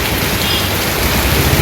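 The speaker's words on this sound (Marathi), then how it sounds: "पण पाऊस काय थांबायचं नाव नाही घेत आहे" Heavy monsoon rain lashes down in a dense, loud, unbroken hiss with faint low rumbling beneath it.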